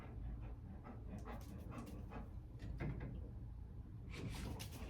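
A metal door latch is lifted with a few light clicks and rattles while a dog waits nearby panting softly, in a quiet indoor room.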